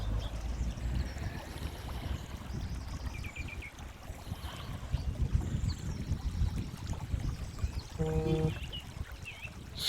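Strong wind buffets a small drone's microphone on a bright sunny day, a loud, ragged low rumble that surges and gusts throughout, with a brief brighter burst near the end.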